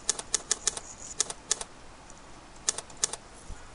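A computer keyboard tapped in quick clusters of crisp key clicks, saving an HTML file with a keyboard shortcut and then pressing Enter, with a short pause between the bursts and no talking.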